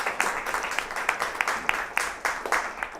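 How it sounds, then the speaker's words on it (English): Scattered clapping from a small audience at a space-industry talk on off-world semiconductor manufacturing, with a dozen or so separate claps in an uneven rhythm and no steady roar, fairly close and moderately loud. "another round of applause for Dr."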